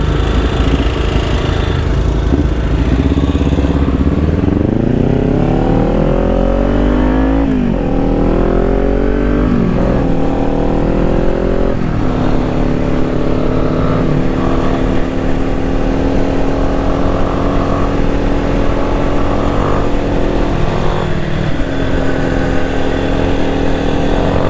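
Kawasaki Ninja 400 motorcycle engine revving loudly and continuously up close, with rising and falling pitch sweeps as the throttle is worked, alongside steady engine drone.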